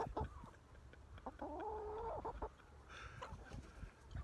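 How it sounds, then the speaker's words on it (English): A chicken clucks on a farm in short, fairly close calls, with a longer, sustained cackling burst in the middle and scattered scratchy sounds around it. No one speaks. "What are you doing, crazy chicken?"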